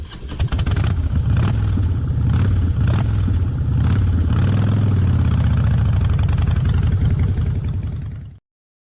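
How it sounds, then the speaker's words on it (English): A motorcycle engine runs steadily, idling with a deep, loud mid-range hum and some revving swells before cutting off abruptly near the end. "Motorcycle."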